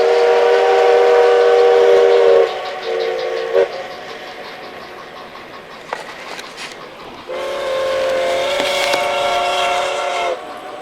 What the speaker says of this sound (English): There's a fake whistle.